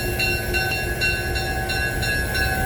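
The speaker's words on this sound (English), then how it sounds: "Number 710 is classified as an EMD GP9 diesel-electric type locomotive." EMD GP9 diesel-electric locomotive number 710, built for the Nashville, Chattanooga and St. Louis Railway, at a turntable at the Tennessee Valley Railroad Museum in East Chattanooga, gives a steady, close idling rumble with a faint high whine throughout.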